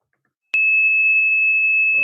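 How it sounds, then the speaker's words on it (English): A pure, steady 2600 Hz phone-phreaking tone, the kind once used to signal telephone switching systems, starts abruptly after half a second of silence and holds loud and unbroken, with a voice starting to talk at the very end. "2600 Hertz tone, which sounds like this."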